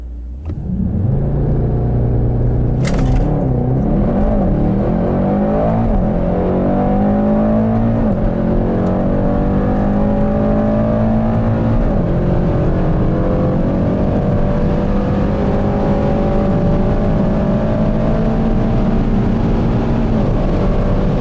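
A 612 hp Mercedes E63S 4Matic estate launches hard under launch control from inside the cabin, its loud engine roar rising through several gear shifts into a sustained, high-revving drone.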